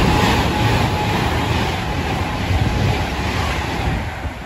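Class 377 electric train at Harrow and Wealdstone station, a loud, steady rushing roar of wheels and motors passing close by, fading slightly toward the end.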